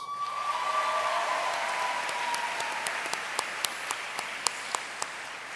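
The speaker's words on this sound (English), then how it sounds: "a round of applause for Miami-Dade County Public Schools Board Member for District 9, Ms. Luisa Santos" Audience applause at the 67th annual Miami Herald/el Nuevo Herald Silver Knight Awards ceremony, honoring a Miami-Dade County Public Schools board member: a steady wash of many hands clapping that gradually thins, leaving a few scattered loud claps near the end.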